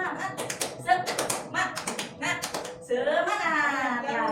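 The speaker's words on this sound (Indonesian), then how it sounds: "Ya, tepuk semangat." A classroom group claps out a rhythmic spirit cheer (tepuk semangat) in quick patterned bursts, several sharp taps in a row, then voices chant together loudly near the end.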